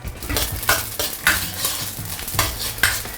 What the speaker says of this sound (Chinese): 我们倒在锅中，给它爆香一下。